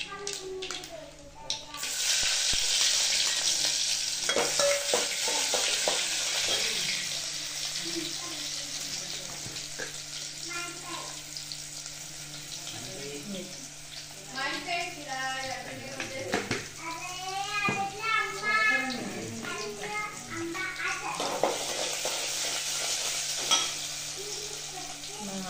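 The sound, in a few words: onion frying in oil with cumin and mustard seeds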